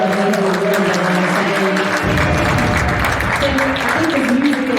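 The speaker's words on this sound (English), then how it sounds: "give a huge round of applause for Krannert" Crowd applause at a Krannert Center event, clapping rising under sustained music tones and voices, becoming denser and more forceful midway through.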